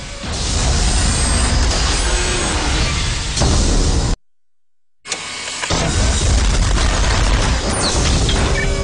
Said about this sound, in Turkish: bakır cevherini sert kayadan ayırmak için yapılan patlama